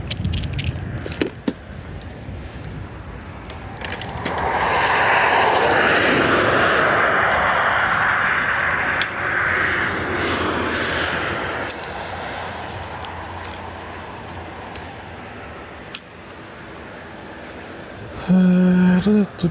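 An Air Malta airliner arriving from La Rochelle swells into a broad roaring jet rumble that peaks midway and slowly fades, heard at a distance with a few clicks and brief noises around it.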